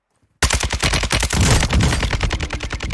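Warzone 2 gunfire: after a short silence, a loud, close automatic weapon rattles off a long, rapid, steady string of shots that continues to the end.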